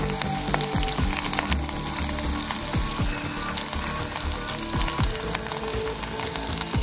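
Garlic and two dried red chilies frying in oil on a wood-fired stove, a dense, steady crackling sizzle with occasional stirring scrapes, close and continuous, with no talking.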